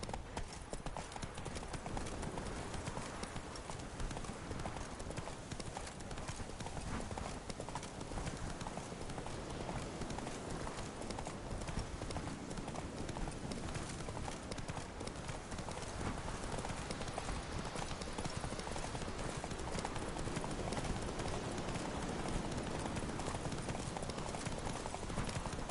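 Roach the horse galloping in The Witcher 3, a steady rapid clip-clop of hooves running continuously and evenly throughout, close and unbroken.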